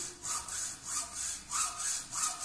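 Hand saw cutting wood along marked lines for a stirrup part, steady rhythmic strokes about one every half second, each forward push rasping louder, close and alone with no talk.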